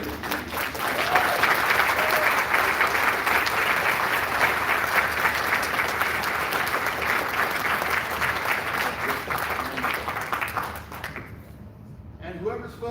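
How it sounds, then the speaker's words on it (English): Sustained applause from a convention crowd cheering the presidential candidates at a Libertarian Party convention in California, a dense steady roar of clapping lasting over ten seconds before fading out abruptly. "I would ask you to give a very generous round of applause for all the presidential candidates"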